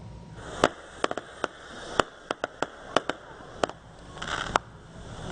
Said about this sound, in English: you're looking right now at a fireworks display all put together by the First Alliance Church of Erie